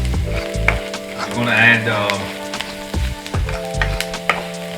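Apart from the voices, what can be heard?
onions frying in a pan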